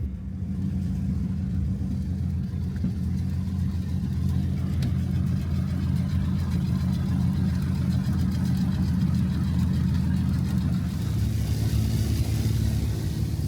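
A Fairchild PT-19 open-cockpit trainer flies on a Tennessee summer morning, its engine giving a loud, steady low rumble that fills the whole stretch, with wind noise mixed in.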